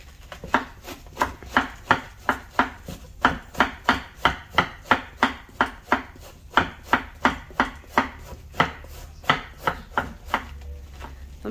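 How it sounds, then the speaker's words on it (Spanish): A knife chops cabbage on a board in quick, even strokes, about two per second, crisp and close, with no talking. "Y aquí vamos picando el repollo."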